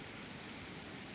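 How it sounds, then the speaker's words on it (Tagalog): Steady rain falling outside a house, a dense even hiss that fills the whole moment without breaks, moderately faint and with no voices over it. "Umuulan na dito sa amin."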